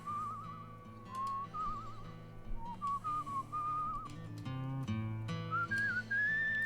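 In the video game Where the Water Tastes Like Wine, someone whistles a wandering melody over soft instrumental music, the tune rising and falling for several seconds.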